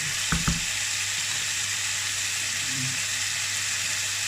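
Beef for loc lac frying in a pan gives a steady, fairly faint sizzling hiss, with a couple of brief clicks near the start.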